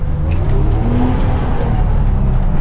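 A 1959 GM 4104 bus engine drones loud and steady while the driver works its unsynchronized manual transmission into second gear, a close, continuous rumble with no talking.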